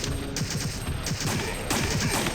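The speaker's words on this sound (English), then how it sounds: "you and Carlos are basically just going to dig into him with as much ammo as possible" Rapid bursts of gunfire fill the Resident Evil 3 video game as shots pour into Nemesis, a dense, loud stream of repeated reports with no pause.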